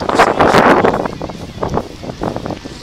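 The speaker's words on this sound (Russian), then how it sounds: "Такой ветер." Strong, cold gusts of wind in Kaliningrad buffet the microphone loudly at first, then ease into gentler rushing bursts, with faint water movement beneath.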